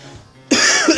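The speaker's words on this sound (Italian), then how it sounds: "c'ho un po' di tosse" A man with a slight sore throat gives a sudden, close cough, a loud burst followed by a second shorter hack, with near silence beforehand.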